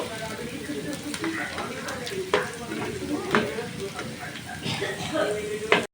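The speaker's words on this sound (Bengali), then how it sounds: "এখানে আমি ভেজে রাখা মাছগুলো দিয়ে উল্টিয়ে পাল্টিয়ে মিক্স করে নেব" Fried puti fish is tossed and stirred in a pan with fried onion and green chili, sizzling oil under repeated scraping spatula strokes, close and fairly loud, with faint voice-like sounds mixed in.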